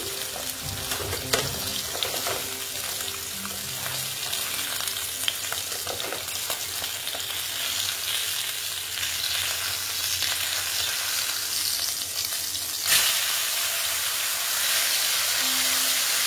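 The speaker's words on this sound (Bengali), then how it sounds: "দেখো মোটামুটি আমার মাছটা ভাজা হয়ে গেছে।" Pabda fish frying in hot oil, a continuous loud sizzle and hiss with occasional spatters and pops, close up and without speech.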